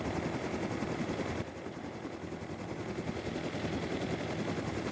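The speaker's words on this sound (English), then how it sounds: "if you're flying the helicopter for the first time, you have to be very careful not to overcompensate" A helicopter flies steadily in Rust console, a loud continuous rotor and engine roar with dense rhythmic chopping that dips slightly in level after a second, without talk.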